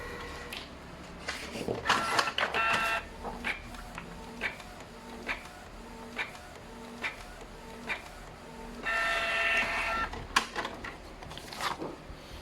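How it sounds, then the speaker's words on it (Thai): Canon MP287 inkjet printer running a print head test after head cleaning and replacement: repeated mechanical whirring passes with clicks and short carriage bursts, close and fairly steady, with no voices. "พอเราล้างหัวพิมพ์เสร็จแล้วเราก็เทสหัวพิมพ์ออกมาดูนะครับผม"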